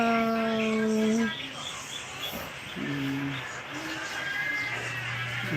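A pet dog gives drawn-out howling whines and whimpers, close to the listener, in two or three sustained tonal bursts separated by short pauses, with quiet background noise.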